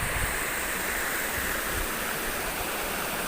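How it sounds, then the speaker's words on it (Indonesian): A waterfall at a historic Japanese site of the Tokugawa samurai family, roaring as a steady, dense wash of rushing water that fills the scene without a break, with no voices. "ada air terjunnya. Air terjun."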